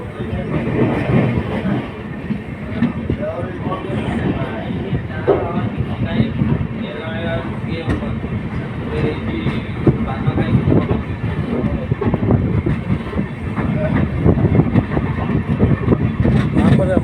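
A train pulling out of Lanjigarh Junction on the Bhubaneswar to Bhawanipatna line, with a steady, loud rumble of rolling stock and some rhythmic rail clatter running throughout, under intermittent talk.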